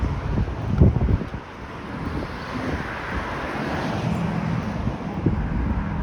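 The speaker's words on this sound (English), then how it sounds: "it's more of a breeze, because this is the type of wind that doesn't bother me" An outdoor breeze near Jane Street and Steeles Avenue West in Vaughan, Ontario, making a steady rumbling wind noise across the microphone, with faint traffic mixed in.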